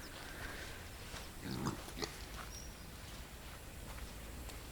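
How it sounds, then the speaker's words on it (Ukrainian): A wild boar gives a few low, brief grunts near the middle of the clip, fairly faint against steady outdoor background noise at a campsite during a cycling trip in Ukraine. "А це не песько. Це кабан."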